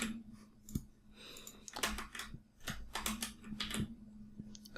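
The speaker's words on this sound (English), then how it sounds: "Let me just copy paste that from here so that I don't have to write so much." Computer keyboard and mouse clicking while text is copied and pasted, a quiet close run of irregular taps and clicks with a low steady hum underneath and no talk.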